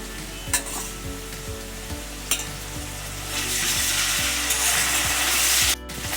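Ginger-garlic paste hits browned onions in a pan and fries loudly, with a continuous sizzle, rhythmic scraping stirs throughout, and a swell of hissing toward the end.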